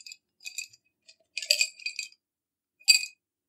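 Small white and red stones rattle and clink inside a cup as it is shaken, in several short bursts separated by pauses, fairly close and moderately loud.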